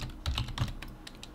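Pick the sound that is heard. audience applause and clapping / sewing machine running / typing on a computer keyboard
typing on a computer keyboard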